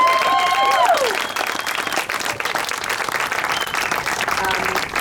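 A crowd at a surf contest awards ceremony for surfer Stephanie Gilmore breaks into sustained, dense applause, with a voice trailing off at the start and the clapping continuing steadily throughout.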